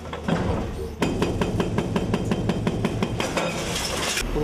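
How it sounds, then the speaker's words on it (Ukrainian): A 26-tonne demolition excavator tearing down a multi-storey building in Lviv produces rapid, repeated crunching and clanking impacts of breaking concrete and metal, dense and close. "А це велика 26-тонний екскаватор, який сертифікований, працює."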